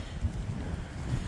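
Wind sweeps through the forest up above, a steady low rushing roar with slight gusting and no voices.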